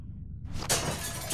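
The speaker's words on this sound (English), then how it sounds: "Use the bat to shatter that window so you can reach in, okay?" Window glass shattered with a bat in The Walking Dead video game: a loud crash of breaking glass after a brief quiet start, then a second burst of falling shards, close and alone.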